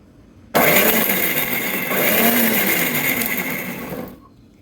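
A kitchen mixer grinder blending coriander leaf chutney on pulse mode roars to life abruptly, whirring loudly and steadily for about three and a half seconds before cutting off.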